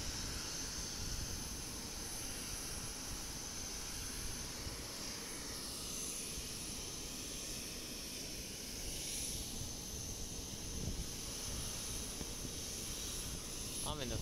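Airplanes arriving and departing at Itami Airport in Osaka during steady rain, a broad continuous jet roar that stays constant throughout under the hiss of rainfall.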